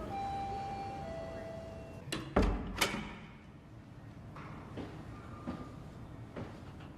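A subway train ride in the video game SOMA, a low rumbling hum of the carriage with several sharp clanks and metallic knocks midway, then softer rattles as the ride continues, a voice talking over it.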